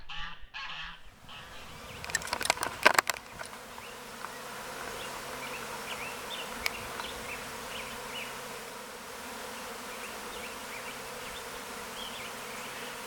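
Honey bees drone steadily around busy, healthy backyard beehives on a homestead, a continuous close buzz after a few brief rustles and knocks at the start.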